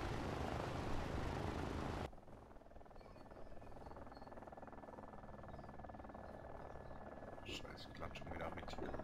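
Helicopter in the video game DayZ Epoch flies with a steady, droning rotor hum after a burst of louder noise, continuing low and constant with faint clicks near the end.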